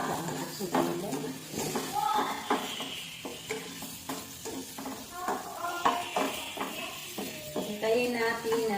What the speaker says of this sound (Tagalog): lagay natin itong lutuin muna ang hotdog